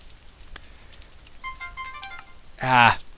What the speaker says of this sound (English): Forgot to turn my phone down again.